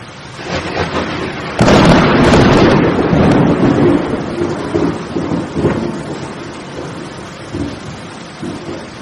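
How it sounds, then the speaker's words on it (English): A loud thunderclap bursts out and rumbles away gradually, with a steady rain-like hiss underneath and no voices. "this was the sound of thunder."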